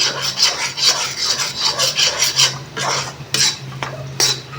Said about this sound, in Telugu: దీన్ని ఇంకా నూనె పైకి తేలేంత వరకు ఇలానే కలుపుతూ ఉండాలి.